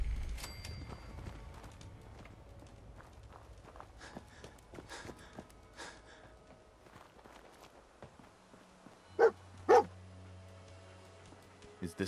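In Fallout 4, the dog companion barks twice in a sharp, loud pair near the end, after a stretch of light footsteps and quiet game ambience.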